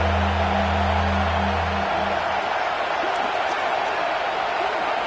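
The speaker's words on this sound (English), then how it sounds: "This crowd is trying to inspire this defense to make a big red zone stop" A football stadium crowd roars in a steady wash of cheering during a playoff game against FIU, urging the defense on before a red zone stop; a low hum drops away after two seconds.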